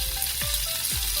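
Ginger garlic paste and chopped cilantro fry in hot oil while cooking Chicken 65, giving a loud continuous sizzle with a couple of soft stirring scrapes.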